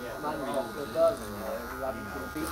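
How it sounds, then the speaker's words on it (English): Hair clippers cutting hair with the clipper-over-comb technique during a men's haircut, a steady close electric buzz with a brief louder swell near the middle. "So I'm just using the clipper over comb technique now, just to remove any sort of excess weight between the sides"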